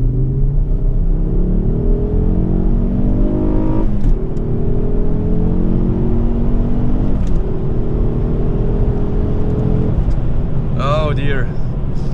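A stock, factory-exhaust Ford Focus ST revs and accelerates through several gears, giving a loud, close droning rumble that climbs in pitch, breaks off at each shift and then builds again.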